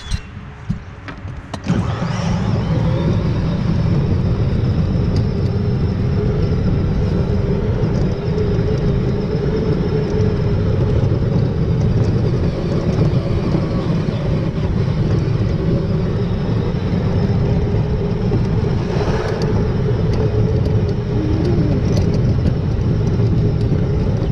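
Remote-control Grave Digger monster truck driving, a continuous loud electric motor whine and rumble close by for over twenty seconds with no talking.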